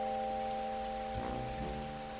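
Rain falls in an animated cartoon scene, a soft, even wash of hiss that runs throughout under steady tonal music and a brief low swell, faint and distant.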